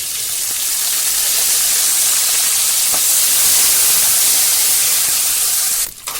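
Mustard seeds, chilli and curry leaves sizzle in hot oil for lemon rice, making a loud, broad, steady hiss that carries on without a break and dips briefly near the end.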